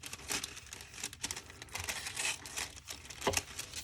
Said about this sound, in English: let's cut a little bit out for our word